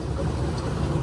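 A farm tractor's engine runs at night while the tractor turns, a steady low rumbling drone, loud and close, with no clear change in pitch.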